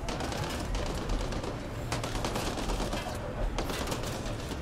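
Sustained enemy gunfire in the sci-fi shooter Mass Effect Andromeda, a dense, steady rattle of rapid shots with sharper bursts cutting through, loud and continuous with no talking over it.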